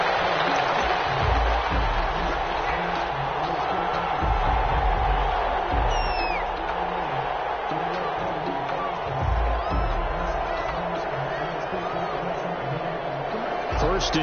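Stadium crowd noise from a PS4 football video game, Washington against Detroit, a steady broad roar of cheering filling the whole stretch, with low thumps and a brief whistle-like tone partway through.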